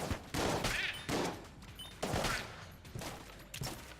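Bursts of video-game gunfire from Enter The Gungeon crack out in four or five rapid volleys, each a sharp blast with a ringing tail, loud and close, with no talking.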